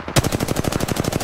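Rapid automatic gunfire from a first-person shooter video game, a steady rattling burst of evenly spaced shots running throughout, loud and close with no talking.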